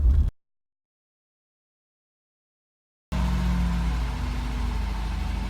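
A car engine with a low oil pressure problem idles steadily after a brief burst, a nearby low rumble with a faint rhythmic pulse and no talk. The engine noise stops early, silence follows, and then the rumble returns.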